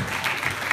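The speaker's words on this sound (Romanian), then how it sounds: "haideți să o mai aplaudăm încă o dată" Audience applause at a school idol gala at Transylvania College, a dense, continuous wash of clapping from a crowd heard briefly at moderate loudness.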